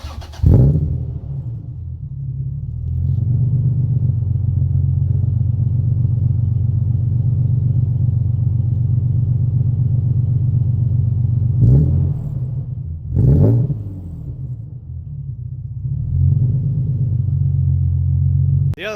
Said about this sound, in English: I'll start the Rodeo up and warm that engine up